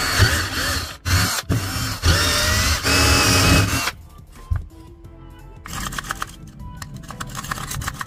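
A power drill bores holes in the top of a used pipe, loud grinding bursts in the first half, then quieter intermittent whirring and rattling near the mic.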